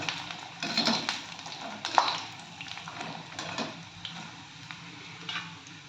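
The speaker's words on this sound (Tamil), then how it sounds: "அடுப்பில் ஒரு வடச்சட்டியில் எண்ணெய் நல்லா காஞ்சிக்கிட்டு இருக்கு கொஞ்சமாக வடகத்தை போட்டுக்கலாம்" Onion vadagam made from boiled rice fries in hot oil in a pan with a steady, moderately quiet sizzle, with occasional light clinks from a utensil, no talking.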